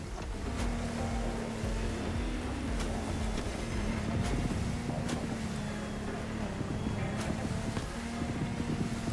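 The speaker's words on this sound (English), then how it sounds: "a boat made by Lamborghini" A Lamborghini speedboat engine in the video game The Crew Motorfest drones steadily over rough, splashing water on a turbulent sea, with a constant low hum running throughout under a dense wash of surf noise.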